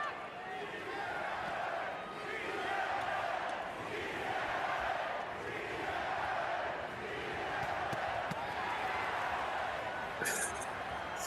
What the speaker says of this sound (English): Spanish-speaking crowd coming out with all the chants tonight.